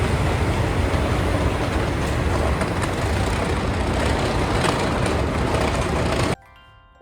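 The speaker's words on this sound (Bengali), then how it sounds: "উঠে পড়লাম থাইল্যান্ডের লোকাল ট্রেনে।" A Bangkok SRT local train gives a loud, continuous rumble and rattle of wheels and carriages for about six seconds, then cuts abruptly to near quiet.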